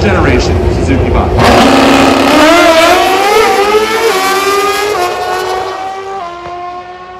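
A Pro Stock drag racing motorcycle, an older-generation Suzuki, roars down the strip at an NHRA Northwest Nationals race at Pacific Raceways, its loud engine note climbing through gear changes and fading into the distance under an announcer's commentary.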